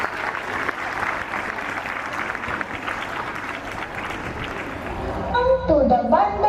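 An audience at a school annual day celebration applauds the guests with a dense, sustained wash of clapping. Near the end the cheering swells louder and a voice rises over the crowd.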